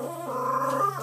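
A dog making soft, drawn-out whimpering and grumbling noises up close while being rubbed after a bath, a brief low vocal murmur.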